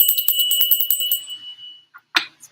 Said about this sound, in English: so as I ring the bell to clear the energy.